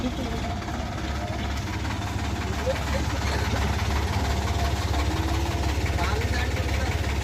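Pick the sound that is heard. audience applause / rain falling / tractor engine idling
tractor engine idling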